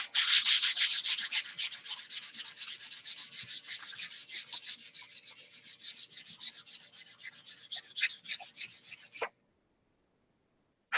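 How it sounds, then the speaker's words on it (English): Steady back-and-forth hand sanding of primer with 320 grit sandpaper, close and rhythmic strokes continuing for several seconds before stopping abruptly. "So now we'll take 320 on this first go around of sanding"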